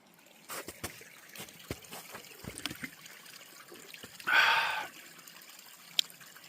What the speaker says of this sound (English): There's all this mountain water here.